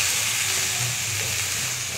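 Spinach and Malabar spinach sizzle and fry steadily in a hot pan, a continuous bright hiss with low bubbling underneath, close and fairly loud with no talking.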